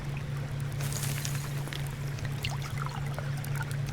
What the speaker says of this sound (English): Let's go and water these plants up.